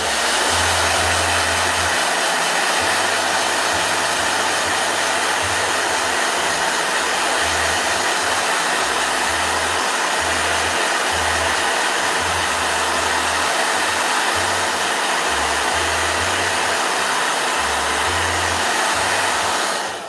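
A blow dryer runs continuously for the whole stretch, a loud, steady, close whooshing roar with a low fluctuating hum beneath and no voices.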